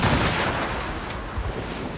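Ship cannons in Assassin's Creed Rogue fire a loud volley at sea, a heavy roaring boom that rolls and decays into rumbling noise over two seconds.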